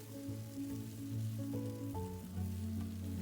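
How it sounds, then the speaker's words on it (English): String beans stir-frying with salt and pepper in a pan give a steady, dense sizzle with soft crackling and occasional stirring scrapes, moderately close and continuous. "Continue to stir fry."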